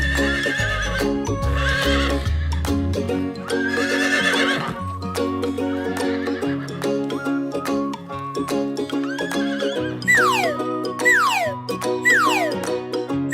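A horse neighs and whinnies repeatedly over a continuous bed of music, with clip-clop hoofbeats and a run of short springy boing-like effects toward the end; the animal sounds are loud and close.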